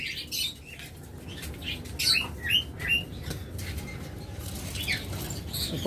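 Lovebirds crowd a bird shop, sending out high chirps and squawks in scattered bursts over a steady rustling, fluttering backdrop.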